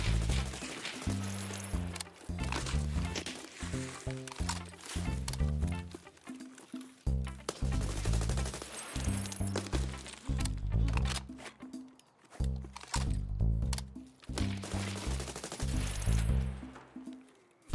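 Rapid SVT rifle fire in Escape From Tarkov, loud close bursts of repeated shots with dense low thumps, broken by short pauses between strings of fire, with no talking.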